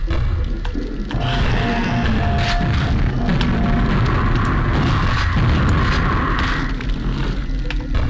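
Gunfire and booming impacts from a zombie-shooting video game, a dense, loud, continuous wash of rumbling blasts and pops with steady game noise throughout.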